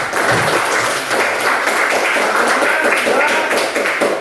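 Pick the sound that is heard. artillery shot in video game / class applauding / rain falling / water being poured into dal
class applauding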